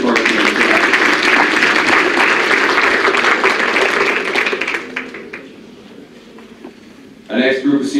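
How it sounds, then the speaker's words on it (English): Loud, sustained audience applause at a college athletics senior awards assembly thins out and stops, then a nearby voice begins speaking. "One more round of applause, please, for Coach McCarthy."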